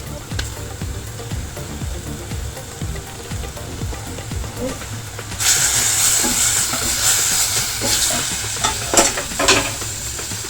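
Beef dropped into a pan already cooking garlic, bursting into a loud bright sizzle midway after quieter stirring and scraping, the hissing sear continuing close and steady with crackling spikes.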